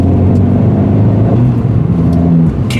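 An Abarth 595C Turismo engine breathing through a Record Modena exhaust, a loud, close, deep steady drone with shifting pitch as the revs rise and fall while driving.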